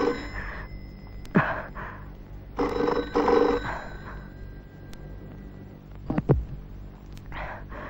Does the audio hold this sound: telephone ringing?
yes